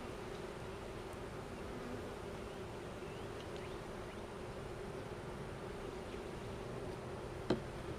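Honey bees in an abandoned hive produce a steady, low continuous buzz with no breaks, heard close throughout, with one brief tap near the end.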